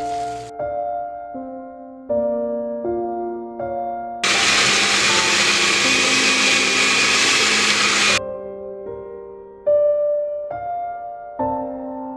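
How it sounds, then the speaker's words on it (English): A blender whirs loudly and steadily for about four seconds as it purees tomato pizza sauce with basil leaves, with musical passages before and after. "we will blend this whole thing in a blender"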